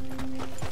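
Horse hooves clop in Red Dead Redemption 2, a few soft close steps over a steady game tone.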